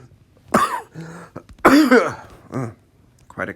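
Several harsh coughs burst out close by, with short pauses between them, followed by a throat-clearing rasp.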